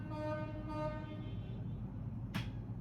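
A long, droning horn blast sounds from a distance, then fades, followed later by a single sharp click.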